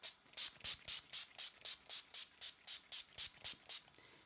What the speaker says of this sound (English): give that a little bit of a spritz